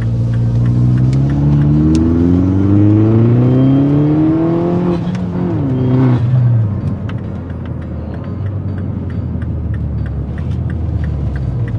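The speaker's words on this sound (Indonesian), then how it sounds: "gue coba geber dikit ya" Mini Cooper S R56 with a Stage 1 tune revving hard from inside the car, the engine note climbing steadily through several seconds, then dropping off and settling into a lower, rumbling idle-like drone.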